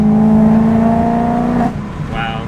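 A supercharged BMW M3 engine drones steadily from the passenger seat, a loud, even hum with a strong low tone that softens and drops after about a second and a half, then carries on more quietly.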